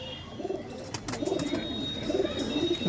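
Giribaz pigeons coo in soft, low, repeated rolling phrases close by, with faint background hiss and no talking.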